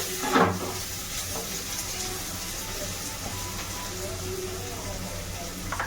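Onion and coconut frying in a pan for a country-style egg curry, a steady sizzle with a few stirring clatters, heard under a person talking.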